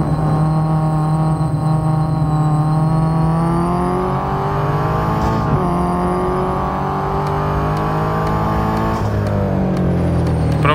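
A race car engine in the Real Racing driving game holds a loud, steady high drone, with pitch shifts between gears and no talking throughout.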